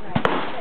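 A single sharp gunshot cracks from a firearm fitted with a compensator, a loud, close blast with a quick echoing tail.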